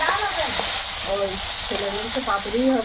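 Okra frying in a pan gives a steady, close hiss and sizzle that runs under people talking throughout.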